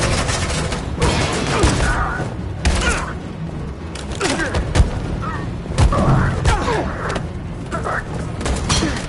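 Suppressing gunfire in the video game Detroit: Become Human, loud and dense, with bursts and booming thuds overlapping throughout and people talking over the battle.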